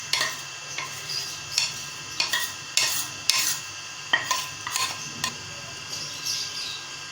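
Small chicken pieces for chow mein are stir-fried in a pan: a low sizzle runs under a series of sharp, irregular scrapes and clinks from a utensil against the metal, roughly a dozen strokes, close and moderately loud, with no talking.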